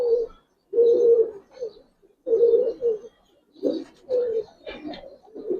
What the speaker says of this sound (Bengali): পেয়ারটা দেখেন মাশাআল্লাহ খুব সুন্দর কবুতর